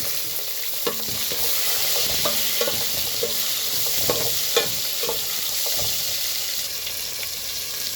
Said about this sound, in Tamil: வெங்காயம் நல்லா வதங்கிட்டு இப்போ தக்காளி சேர்த்துருக்காங்க.